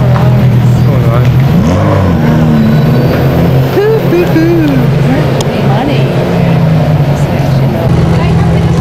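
Ferrari sports cars roar past nearby, engines droning and revving loudly and continuously, while people talk over the noise.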